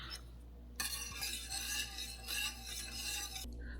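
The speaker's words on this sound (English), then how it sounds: "remove it from the heat and stir in the fresh lemon juice" Fresh lemon juice stirred into hot cream in a pan for lemon posset, with a spoon clinking and scraping steadily against the sides for a few seconds, close and fairly quiet.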